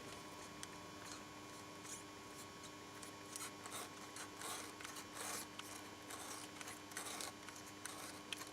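Quiet snipping and scraping while a dried, still slightly tacky tire repair patch is cut off inside a punctured tire, with faint irregular cuts under a steady low background hum.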